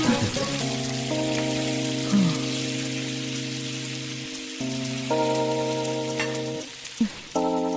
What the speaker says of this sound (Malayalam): ഇതിനെ നന്നായിട്ട് വറുത്തെടുത്ത് എനിക്ക് കൊണ്ട് വരണം